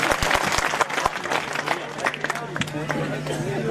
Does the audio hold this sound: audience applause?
yes